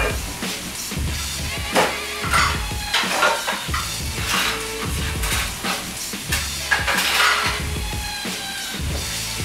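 Meat sizzling in a pan while cooking cheesesteak pocket filling, a steady crackling fry close by with intermittent utensil scrapes and clinks against the pan, no talk.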